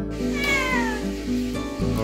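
A cat by a fishing spot at Rawa Pening lets out drawn-out, wavering meows over a low steady hum, loud and close, with a brief pause before another cry near the end.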